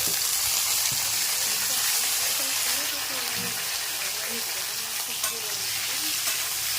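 Potatoes and onions fry in a pan with a steady, loud sizzle and crackle close by, a stirring scrape showing now and then, and faint talk is heard under the frying.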